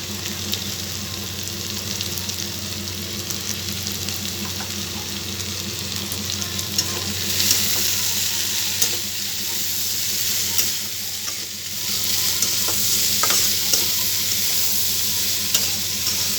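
Pumpkin, potato and bitter gourd fry in a pan with dry red chilli and turmeric, a continuous even sizzle with occasional stirring scrapes and no talk.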